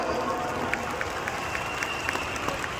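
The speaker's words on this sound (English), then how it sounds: "Can we all give our topmost leaders a round of applause today?" A large audience applauds its leaders at a company event in Kuala Lumpur, producing a steady wash of crowd noise with faint, evenly spaced claps running through it.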